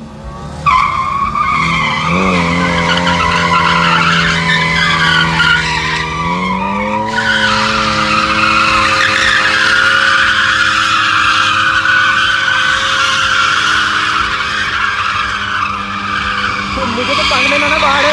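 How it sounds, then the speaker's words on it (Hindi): Cars drift on a road with loud, sustained tire squeal and roaring engines that rise and fall in pitch, close and continuous throughout. "गाड़ियों की ड्रिफ्टिंग हो रही है, रोड पे"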